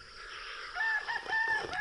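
A rooster crows loudly and close by, a single drawn-out call over a quiet outdoor background.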